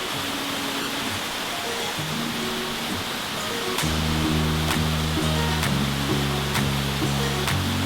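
A waterfall in northern Laos pours in a steady, broadband roar, with a continuous rushing wash that grows a little fuller partway through while faint tonal hums sit underneath.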